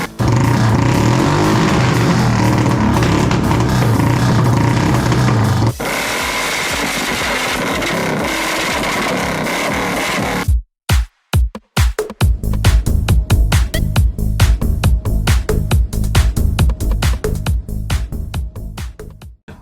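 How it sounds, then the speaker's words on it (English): A 2002 Kawasaki Vulcan 800cc motorcycle engine idles with a steady rumble, drops in tone midway, then cuts out and restarts into sharp, popping revs and choppy exhaust bursts. "this is my motorcycle right here."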